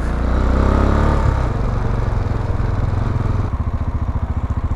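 Mash 400 motorcycle engine pulling away on a hill start, a loud close single-cylinder thrum that rises briefly and then settles into a steady, pulsing idle.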